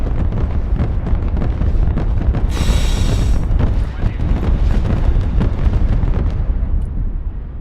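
Regular bombs dropped by a B2 Spirit in the Broken Arrow video game rumble as heavy, continuous explosions, with a loud roar throughout and a brief sharp burst near the middle.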